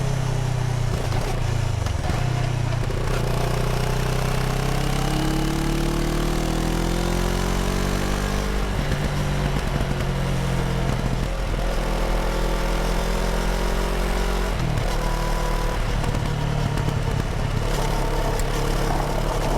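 Riding a 2022 CFMoto 650 ADVentura twin over gravel and dirt, the engine drones steadily up close, pitch rising and falling through throttle changes and gear shifts, with wind rush over it.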